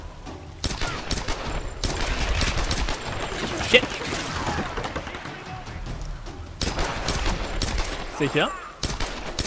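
Rapid gunfire in the video game Tomb Raider, with dense volleys of shots across most of the stretch, broken by a brief lull and then another burst, while someone talks in German over it.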